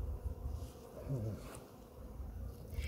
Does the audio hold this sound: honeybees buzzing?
yes